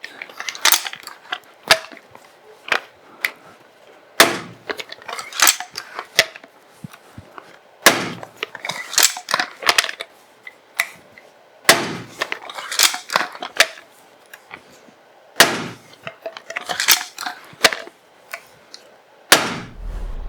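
An RX Adder crossbow fires a string of bolts into a target, each shot a sharp close snap and thwack, spaced a few seconds apart with quieter handling and reloading clatter between them.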